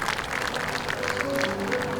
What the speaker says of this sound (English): And the applause for Jason